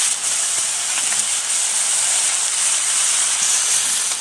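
Fish heads hit a hot pan for a cabbage curry and set off a loud, steady hiss of sizzling oil that holds evenly throughout, close and unbroken.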